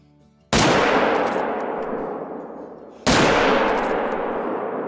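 Two loud rifle shots ring out in theHunter: Call of the Wild while hunting a grizzly, each a sharp blast with a long, slowly fading echo, spaced about two and a half seconds apart.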